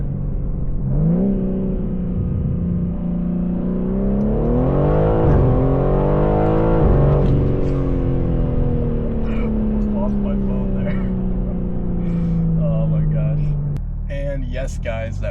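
A stock BMW M3 launches in second gear with its tires spinning. The loud engine note climbs and surges before easing into a steadier high drone, then drops away near the end.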